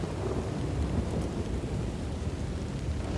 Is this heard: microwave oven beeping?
no